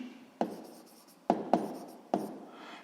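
Pen strokes on paper as numbers are written by hand for a 6th-grade math exercise: four sharp taps and short scratches spaced irregularly, quiet and close, with no voice.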